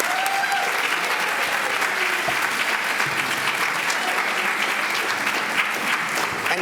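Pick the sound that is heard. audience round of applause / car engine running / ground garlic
audience round of applause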